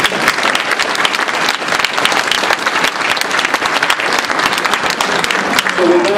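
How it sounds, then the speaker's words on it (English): A Veterans Day ceremony audience breaks into sustained, loud applause, a dense steady clatter of many hands filling the room without pause. "Round of applause for them."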